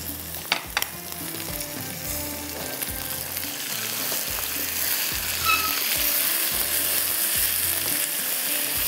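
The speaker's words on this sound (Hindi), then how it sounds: "थोड़ा सा आपने इसको इस तरह से भून लेना" Chicken sears in a pan with onion and spices, giving a loud, close, continuous sizzle and crackle with rhythmic stirring scrapes and a few clinks of a utensil.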